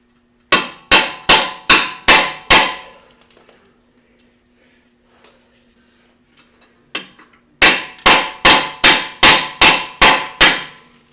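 Hammer striking an extension on a rusted bolt of a 2012 Ford Explorer, two loud rapid series of about six and eight metallic blows with a quiet pause between, close and ringing.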